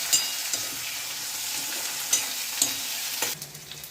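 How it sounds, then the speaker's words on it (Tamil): Chopped tomatoes sautéing in a pan for a ladyfinger and onion vatha kuzhambu, a steady close sizzle with a few soft clicks of a spoon stirring, no voices. "தக்காளி போட்டு வதக்கணும்."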